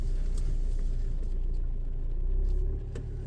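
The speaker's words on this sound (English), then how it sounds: "I'm going to reverse park because it's reverse park only" Learner driver's car reversing into a car park space, a steady low engine rumble and road hum held close throughout, with no talking over it.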